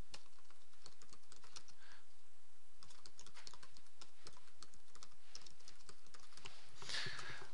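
Typing on a computer keyboard while writing code to declare a string property, a steady run of quick, close plastic key clicks with brief pauses and no voices.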